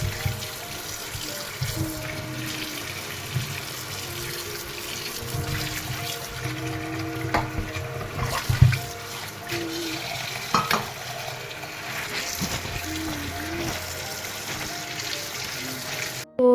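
Tap water runs steadily as a guava is rinsed under the faucet, a continuous hiss and splash with faint handling clatter throughout.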